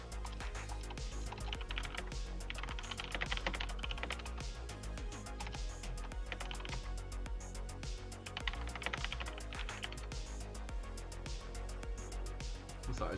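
Rapid typing on a computer keyboard during a live game stream, a continuous patter of close, crisp key clicks with uneven bursts and brief pauses, no talk over it.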